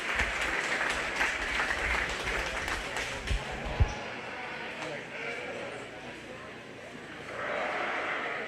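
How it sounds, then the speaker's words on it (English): Audience applause fills a 4-H/FFA sheep and little lambs show ring, a steady clapping wash with a few sheep bleats and a thump or two mixed in, with talk nearby. "give all those kiddos a big round of applause for a really nice class"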